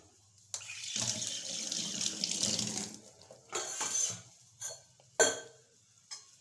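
A cooking pot is rinsed and scrubbed under a running kitchen tap, water gushing steadily for a few seconds, then several shorter splashes and metallic knocks of the pot in the sink, fairly quiet and close.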